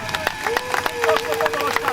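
Crowd applause at a hobby autocross race in Krupina, with scattered claps and crowd noise under a man's amplified announcement.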